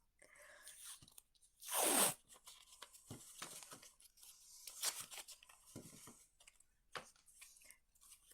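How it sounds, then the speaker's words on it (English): Painter's tape pulled off the roll in a craft room to wrap a pumpkin stem, with one loud ripping pull followed by softer crinkling, tearing and handling noises, close by with no speech. "grab some painter's tape and just put the tape around the stem"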